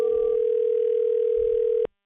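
An outgoing phone call rings out as a single steady telephone tone, clear and continuous, held for nearly two seconds before cutting off abruptly into silence.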